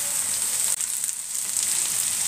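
Onions, green peppers and coloured bell peppers fry in a pan for a chicken liver dish. A steady, close, hissing sizzle carries on throughout with no talking.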